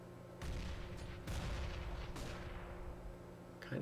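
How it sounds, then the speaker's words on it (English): Grenades going off in Counter-Strike on the dust2 map, several deep muffled booms in a row, each with a rumbling tail, at moderate distance and fairly quiet overall. "Here comes some grenades."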